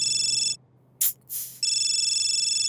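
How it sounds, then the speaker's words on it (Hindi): A ringing alarm gives a steady, bright electronic buzzing tone with a rapid pulse, cuts out abruptly, then returns after a couple of brief sharp noises and keeps sounding, loud and close. "और ये अलार्म की आवाज कैसे बदल गई?"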